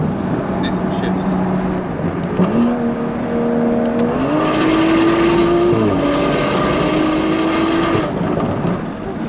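A BMW M235i engine revving loudly from inside the car, its tone climbing and dropping through several gear shifts. A voice talks over the engine.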